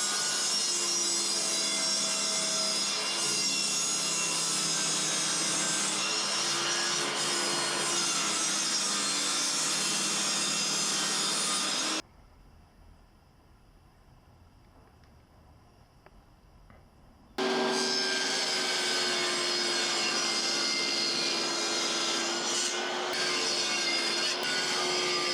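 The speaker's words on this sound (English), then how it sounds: "So I'll go ahead and rip a bunch of 18 by 18 staves and see how we go." A saw rips wooden staves 18 by 18 millimetres in size, a sustained loud rasping cut that drops to near silence for several seconds midway, then resumes just as strongly.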